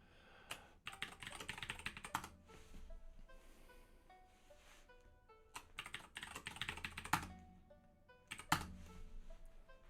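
Close, quiet typing on a computer keyboard while entering a terminal install command, bursts of rapid key clicks with a few louder presses, likely the Enter key, separated by short pauses.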